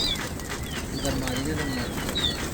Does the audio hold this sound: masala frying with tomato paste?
no